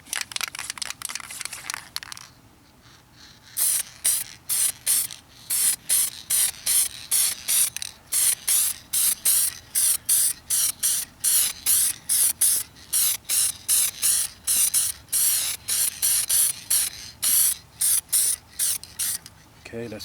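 A spray gun lays a base coat of paint onto a car in many short, sharp hissing bursts, each about half a second long, repeating rhythmically at close range. A few quieter moments come first.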